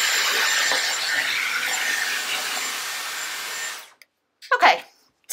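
A Dyson Airwrap blows a steady, loud broadband rush of air while drying long, thick hair, running continuously for about four seconds before cutting off, followed by a brief faint rustle.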